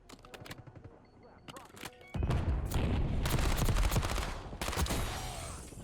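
Rapid LC-10 submachine gun fire in Call of Duty Black Ops, with a few scattered shots followed by a loud, sustained burst of automatic fire up close, with a voice talking over parts of it.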